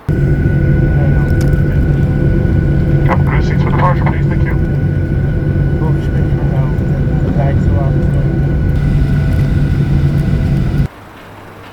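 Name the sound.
airplane taxiing on taxiway to runway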